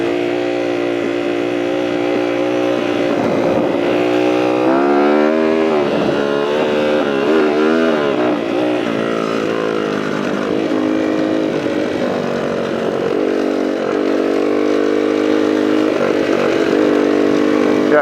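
A CR80 dirt bike engine holds a steady buzzing throttle on a lap of a riding area, loud and close, its pitch wavering slightly with the terrain, no voices.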